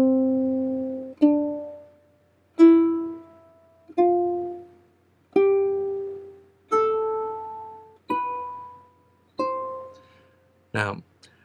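Ukulele plucking a slow series of single long notes, each ringing out and fading before the next, eight clear decays alone with no talk, closing with a short strummed chord.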